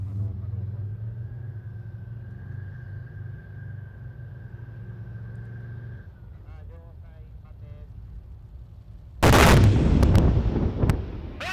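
Tank cannon fire during a Japanese live-fire exercise: after a long low engine rumble and a distant announcer, a single loud blast erupts near the end and decays into rumbling.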